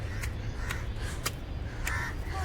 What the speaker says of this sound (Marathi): काय नाही करत तो, कावळा आहे